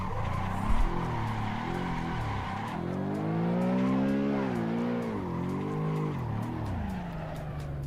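A car in the Assetto Corsa Evo racing game spins through a donut, engine droning with a rising and falling pitch as the tires squeal and skid, a brief thump near the start.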